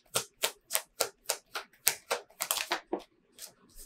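Tarot cards are shuffled and drawn for a Capricorn reading, a steady run of about a dozen crisp, papery snaps close to the mic, quickening into a brief flurry before trailing off.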